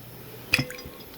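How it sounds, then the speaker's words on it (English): A small piece of fruit dropping straight into water outdoors in Tobago, one brief splashy plop standing out alone against quiet background. "And it fell straight in the water."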